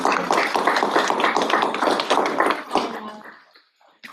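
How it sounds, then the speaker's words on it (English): Dense applause from a crowd, steady and lively for about three seconds before tapering off into a few scattered claps. "Round of applause for them."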